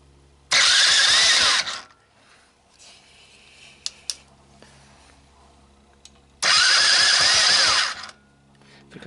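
A Sunl 110ST ATV, a small garage-sale quad, being started on choke: two loud cranking-and-firing bursts of about a second and a half each, separated by a quieter gap with a few clicks.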